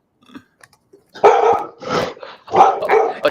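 A dog barks loudly and close by in a rapid run of four or five gruff barks, preceded by a few faint small noises.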